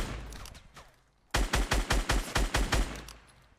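A rapid string of about eight pistol shots rings out in Fortnite, sharp and evenly spaced, loud and close after a quieter stretch, with no talking.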